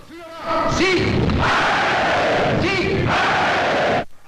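Crowd of people at a 1930s political rally roaring and cheering on cue in two loud, sustained bursts, with chanted shouts rising over heavy thudding noise.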